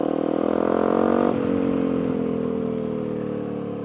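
A Fantic 125 motorcycle with a Yamaha engine runs close by, holding a buzzy rev before dropping sharply and settling into a steady, slowly falling engine note.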